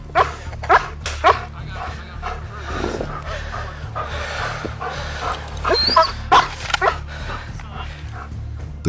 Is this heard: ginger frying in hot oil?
no